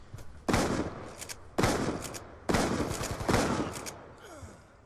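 Three or four loud shotgun blasts boom in a video game match, each with a heavy decaying tail, spaced about a second apart.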